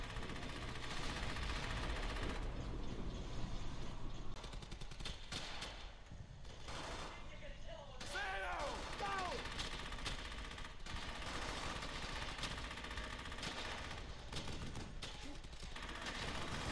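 Heavy gunfire in Brothers in Arms: Hell's Highway, a World War II shooter, rattles in dense, continuous bursts throughout, loud and busy, with shots layered over a steady battle din.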